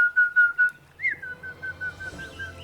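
A person whistles an imitation of a chickadee call, a clear high-pitched series of short repeated notes with a slightly rising note after a pause, close and alone with no talk.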